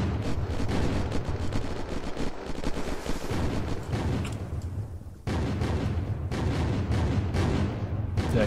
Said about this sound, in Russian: Ребята, это вроде бы не мы стреляем, это по нам стреляют.